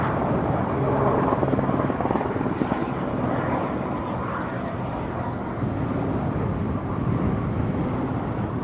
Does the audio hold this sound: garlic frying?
no